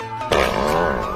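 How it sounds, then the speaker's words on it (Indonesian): A comedic cartoon fart sound effect blurts out in one loud, buzzing burst lasting about a second. "Smith buang gas."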